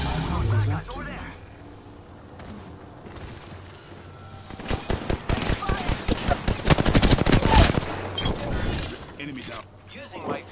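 Rapid bursts of automatic gunfire and rattling shots from the battle royale video game Apex Legends, building from scattered shots to a dense, loud fusillade mid-clip before easing off, with game sounds underneath.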